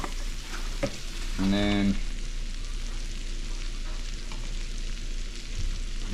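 Green beans sizzling in butter with seasoning salt in a pan, a steady close crackle with a brief utensil clink and a few quiet spoken words over it.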